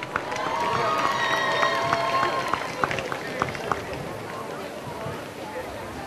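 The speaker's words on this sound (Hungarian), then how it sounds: "Fazekas Mihály Általános Iskola növendékeinek kérnék egy nagy-nagy tapsot" An audience applauds the pupils of Fazekas Mihály primary school at a harvest festival: dense, steady clapping from a crowd that thins slightly toward the end, with some faint tonal sounds mixed in.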